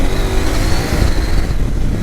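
A Husqvarna Norden 901 motorcycle accelerates hard, its engine note loud and steady with rising tones, heavy wind rush filling the low end throughout.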